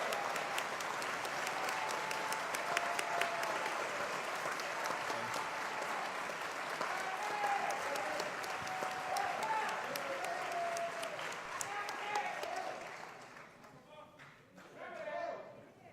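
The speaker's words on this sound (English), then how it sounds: "let's give our new state's attorney a round of applause and a dynamite welcome" A Baltimore town hall audience applauds steadily to welcome the new state's attorney, a dense, sustained clapping that holds for most of the stretch before thinning out near the end, with voices mixed in.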